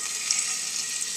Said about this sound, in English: My oil starting to sizzle, so in with the rice.